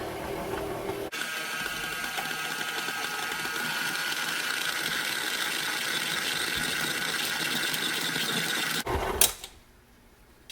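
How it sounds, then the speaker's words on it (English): A very old stand mixer runs steadily, mixing noodle dough with a continuous mechanical whir and rattle for several seconds before switching off, leaving quiet. "We got a stand mixer that's really old, and I'm going to just turn this on and kind of forget about this for a little bit."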